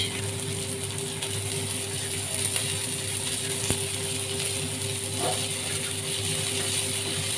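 Steady ratcheting grind of a black pepper mill twisted over mutton keema, a continuous dry mechanical rasp held close and moderately loud for several seconds.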